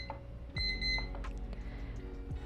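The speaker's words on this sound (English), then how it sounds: "Oh, there goes the timer." A drawing practice timer alarm goes off, a bright repeating electronic beep pattern ringing for a couple of seconds amid light desk noise.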